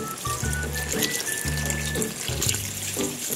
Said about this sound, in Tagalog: Magdagdag lang tayo mga idol ng kunting tubig.